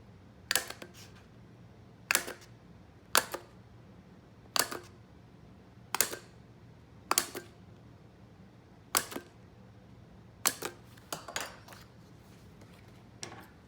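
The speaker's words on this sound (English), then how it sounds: "I just use a Dollar Tree hole punch, and then I just punch my holes out." Dollar Tree hole punch biting through planner paper, about a dozen sharp crisp clicks spaced irregularly, close and distinct over a quiet background.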